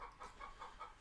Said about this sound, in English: Sounds like one of the chickens is laying an egg or trying to or something.